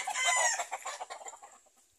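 Texas breed roosters on a farm cluck and call close by, a loud burst at first that breaks into quick, fading clucks.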